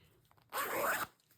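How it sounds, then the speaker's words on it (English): Zipper on a fabric pillow cover for a cuddle bench being pulled open, one quick close rasping zip of about half a second in an otherwise quiet room. "We have a zipper."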